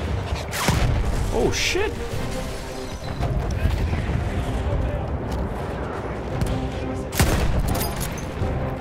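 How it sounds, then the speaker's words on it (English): Battlefield 1 battle at Cape Helles on a World War 1 beach landing, with artillery booms and rattling gunfire bursting repeatedly over dense combat noise, and a voice exclaiming partway through. "Someone with a big piece of artillery up there."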